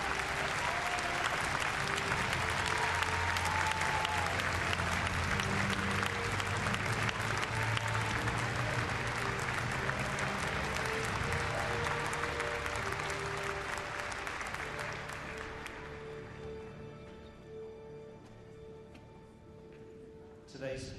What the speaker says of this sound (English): A big round of applause, please, ladies and gentlemen, for our patrol from the Tactical Police Squadron.